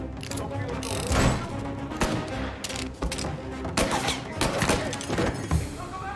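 Rapid gunfire in Mafia Definitive Edition, dense bursts of sharp shots and thuds crowding a chaotic firefight, with a voice talking over the shooting.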